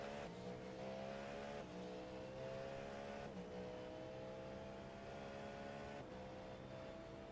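In the iRacing simulator at the Sebring 12 Hours, race cars, GTD cars and then an LMP2 prototype, rush past with faint, rising and falling engine whines, several sweeping by one after another.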